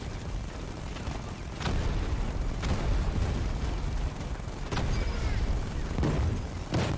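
Heavy turret fire in Batman: Arkham Knight, a few loud booming blasts landing over a dense, rumbling battle din with no one talking.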